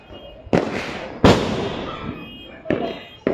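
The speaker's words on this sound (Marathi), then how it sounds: "फटाक्यांचा आवाज आहे काय काय एकदम जबरदस्त" Diwali firecrackers bursting at night, three loud sharp bangs spaced apart, each trailing off into a rumbling echo, close and forceful.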